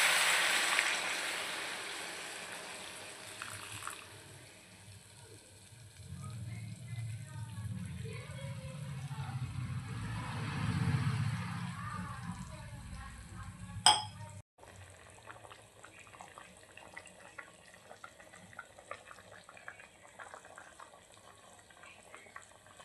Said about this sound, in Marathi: आता यामध्ये आपण पाणी ॲड करूया.